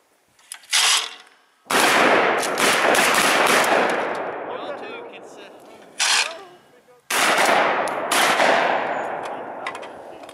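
Guns firing at an outdoor shooting range: a short burst, then long sustained rapid-fire volleys that echo and decay. A brief crack sits between the bursts, and the shots come loud and close.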